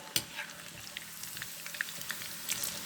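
Chilli chicken frying in hot oil until deep red, a steady sizzle broken by occasional sharp pops and light stirring clicks.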